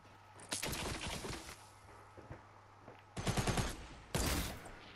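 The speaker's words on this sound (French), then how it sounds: "Ah, y'en a un autre qui me tire dessus." Bursts of rapid automatic gunfire in Fortnite Battle Royale, loud and close, arriving in several volleys separated by short pauses.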